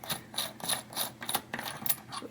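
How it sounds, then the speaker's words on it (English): A tool loosening the lock ring on a bike cassette, a run of about eight quick ratcheting clicks and scrapes of metal parts, close and fairly quiet, with no voice. "turn this counterclockwise to loosen this little lock ring on the top here"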